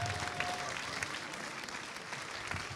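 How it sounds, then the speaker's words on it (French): Audience members at a short film festival closing ceremony applaud as the jury enters, a steady, fairly faint wash of clapping throughout. "Le jury entre, bien évidemment, sous vos applaudissements."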